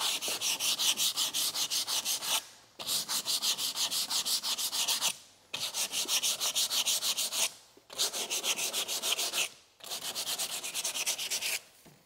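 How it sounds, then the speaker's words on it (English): Rhythmic back-and-forth sanding along an oak beam between strips of tape, steady rasping strokes in four long passes broken by brief pauses, close and loud with no talk. "So I'm just sanding in between the tape right now, trying very carefully not to hit that tape as I do this."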